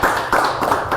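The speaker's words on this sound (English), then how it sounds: "Can you clap for you guys, please?" A studio audience claps loudly and close, a dense burst of many hands with slight surges in the rhythm, lasting about a second.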